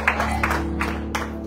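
A church congregation cheers and acclaims with clapping and shouted voices, a steady crowd roar with a few sharper bursts over a low sustained tone.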